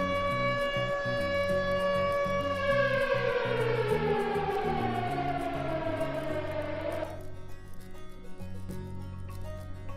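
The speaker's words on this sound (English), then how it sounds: "I also found a very cool mod for a working siren." Working siren from a mod in a video game update, a steady wailing tone that sweeps downward over several seconds before cutting off, with game background sound throughout.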